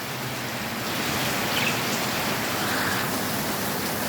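Heavy rain pours steadily and close, a dense continuous wash of drops hitting surfaces that swells slightly midway and holds constant throughout, with no voices.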